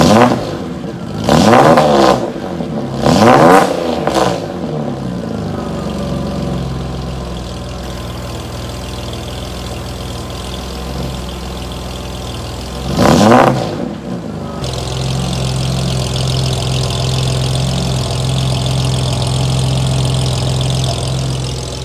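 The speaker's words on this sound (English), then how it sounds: "Definitely like the idle sound. I'm not so sure about the rev sound." A classic BMW 635CSi E24 on a lift, its aftermarket exhaust idling at a steady low rumble, broken by three sharp revs that climb and fall back, loud and close, with no talking.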